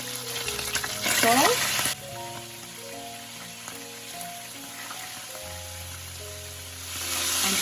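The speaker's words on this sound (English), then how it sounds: "Let it saute a little bit on each end." Beef stew ingredients with chopped garlic sizzle as they sauté in a pan for Greek beef and onion stifado. A steady frying hiss runs throughout, louder at the start and end, with a voice talking over it.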